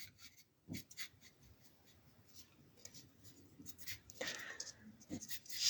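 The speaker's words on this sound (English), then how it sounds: "I'm just doing a quick live session where I'm drawing a houseplant." A pencil sketches a houseplant on paper, giving faint, intermittent scratching strokes at close range, with soft breathing and a few brief louder rustles in a quiet room.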